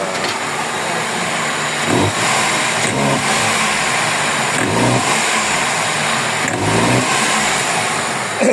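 Toyota 4AFE engine in a car lacking power with black smoke and an idle issue, revving loudly up and down in repeated surges about every two seconds, close and sustained.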